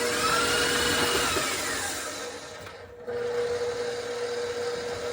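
A stand mixer runs steadily on its low setting, kneading cinnamon roll dough with a continuous motor whir and a brief dip partway through, close and alone with no talk.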